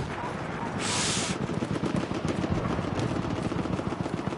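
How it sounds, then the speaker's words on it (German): Rapid automatic gunfire rattles continuously in Battlefield 1 during an open beta match, a dense stream of close shots with a brief burst of hissing noise early on. "Ich glaube, der schießt einfach nur quer rum."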